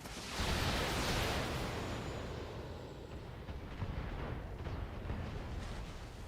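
A mech blows apart in the BattleTech video game, a deep rumbling explosion that swells quickly and then rolls on as a long, muffled, crackling roar.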